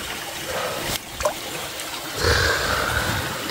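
Water from a mountain stream trickles over stones in a wooded valley, a soft steady flow that swells louder in the second half, heard alone without talk.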